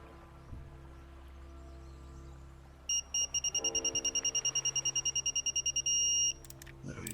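An electronic torque wrench beeps in a quick regular series of high tones that builds into one sustained tone, set against faint mechanical clicks and room hum while spark plugs are tightened on a 2022 VW Arteon.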